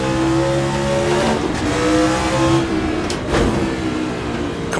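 A Formula 1 race car in the Assetto Corsa racing game revs hard through its gears, with a loud, close, high-pitched engine scream rising and dropping across short bursts of acceleration.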